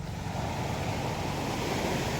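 Sea waves beside a small clean beach, a steady broadband wash of surf mixed with some wind, moderately loud and continuous with no voices.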